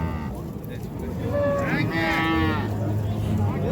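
A cow at a livestock market gives a long, loud moo that rises and holds, close by, against wind and background market noise.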